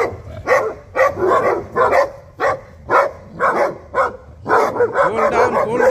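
Dogs barking loudly and close by during morning training practice, a string of sharp repeated barks at an irregular rhythm, with a brief spoken word near the end.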